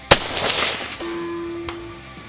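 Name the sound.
Ruger American Predator rifle shot, Hornady 147g ELD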